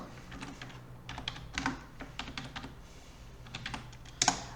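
Someone types a folder name on a computer keyboard: a quick, close run of light key clicks in small clusters with brief pauses, ending in a sharper keystroke.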